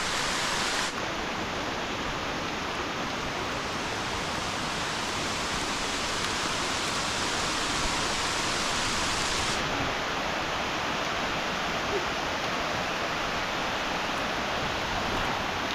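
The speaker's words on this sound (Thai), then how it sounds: "ฝนตกเลยพี่น้องนะ" Heavy rain pours down outdoors as a steady, dense hiss that holds unbroken and fairly loud for the whole stretch, with no voices over it.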